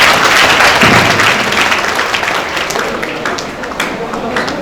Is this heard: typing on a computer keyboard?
no